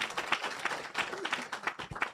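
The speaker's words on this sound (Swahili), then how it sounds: "Pigie makofi." Crowd at a political address to Nakuru residents clapping in scattered bursts, moderately loud and uneven, with some voices mixed in.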